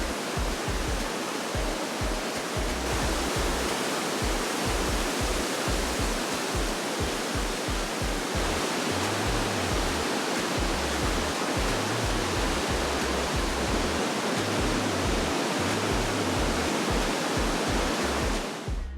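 Rhine Falls roars up close, a loud, unbroken wash of crashing water filling the whole scene with dense rushing noise.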